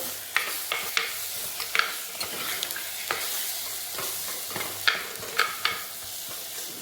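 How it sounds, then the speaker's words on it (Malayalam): Chopped tomatoes fry in a pan for tomato rasam, with a steady close sizzle broken by repeated light clacks of a spoon stirring against the pan. "നമ്മൾ അരിഞ്ഞു വെച്ചിരിക്കുന്ന തക്കാളി ഇട്ട് കൊടുക്കണം"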